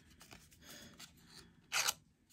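Scissors score paper with a quiet scraping of blades, a few soft rasps followed by one louder, brighter swipe near the end.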